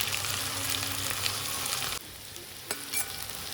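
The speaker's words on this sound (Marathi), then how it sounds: "जिरे तडतडले की आपण कांदा टाकून घेऊ त्यासोबतच मिरची पण टाकून घेऊया म्हणजे दोन्ही पण मस्तपैकी भाजून घेऊया" Onion and green chili frying in hot oil with cumin for kanda pohe give a steady close sizzle, with a couple of sharp stirring knocks near the end.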